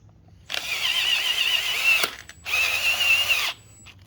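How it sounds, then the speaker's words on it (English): A power tool drives a screw into a Sur-Ron electric motorbike's bash guard while an electronic pedal kit is installed, in two close, loud whirring bursts separated by a brief pause. "Take the screw already with the power tool."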